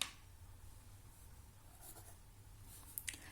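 Pen or marker writing out numbers for an inter-arrival time worked example, soft scratchy strokes close to the mic with a couple of sharper taps near the end, no talking.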